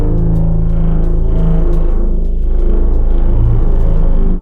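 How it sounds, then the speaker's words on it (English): A friction mallet rubbed across a timpani makes a loud, continuous low rumbling groan with a gritty texture, sustained evenly for a few seconds before stopping abruptly. "That's a timpani."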